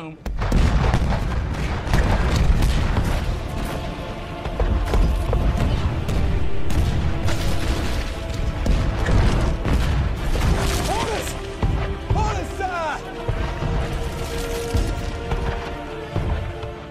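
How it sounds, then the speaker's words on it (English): A rolling broadside of cannon fire from the USS Constitution, the guns firing one after another down the line as dense, continuous booming with crowd noise and voices mixed in. "A rolling broadside is firing them in a line, like dominoes."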